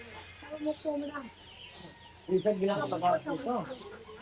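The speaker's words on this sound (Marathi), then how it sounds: "त्याच्यात कोंबडा आहे मोठा" A large rooster crows in a drawn-out, rising and falling call partway through at Crawford Market in Mumbai, mixed with people talking close by.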